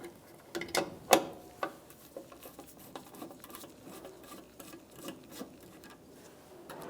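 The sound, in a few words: backing out Torx T15 mounting screws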